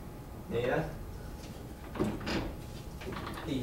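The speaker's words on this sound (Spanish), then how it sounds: "simplemente mi puerta abre así y se cierra" A newly installed wardrobe door swings open and shut, giving a few soft knocks and slides over steady room noise while a person talks.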